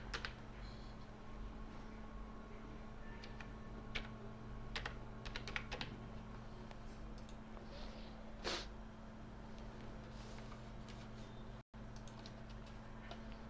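Soft, steady keystrokes on a computer keyboard as a password is entered, a close run of light clicks over a low background hum with no talking.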